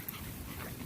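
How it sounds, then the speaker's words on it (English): A full-breed apple-headed Chihuahua lets out a brief, close whimper lasting under a second. "It's an apple-headed Chihuahua, full breed."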